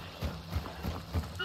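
A horse galloping in the game Hunt: Showdown, with a quick run of rhythmic hoof thuds at moderate distance, heard briefly alongside faint game ambience.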